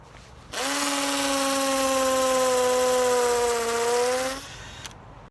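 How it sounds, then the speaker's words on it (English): A small power drill whirs loudly and steadily for about four seconds, its pitch sagging slightly under load as it bites into a tree trunk, then stops. "this is impossible to do with my little drill here"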